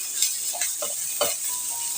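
Grated ginger and garlic are stirred in a pan, with a soft steady sizzle under scattered scraping and clinking strokes of a utensil against the metal.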